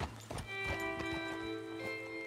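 Horses walk in the video game Red Dead Redemption 2, quiet scattered hoof clops under a sustained ringing musical tone, with no talk.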